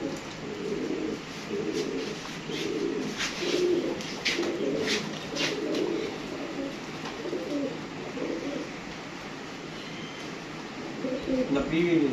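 Pigeons coo repeatedly in soft, rolling bursts nearby in a park, with outdoor background noise and someone talking over the birds.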